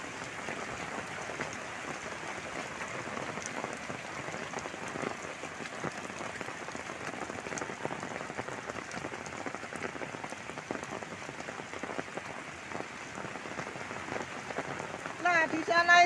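Heavy rain pours down over a flooded corn field during high rainfall, a dense, steady hiss of drops on water and leaves that holds constant and swells slightly at the end.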